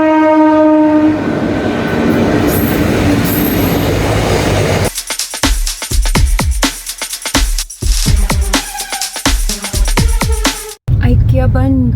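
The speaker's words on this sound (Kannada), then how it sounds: "ಟ್ರೈನ್ ಬರ್ತಾ ಇದೆ" Near IKEA Bangalore, a passing train sounds a long loud horn, followed by rapid rhythmic clickety-clack of wheels over rail joints with brief squeals.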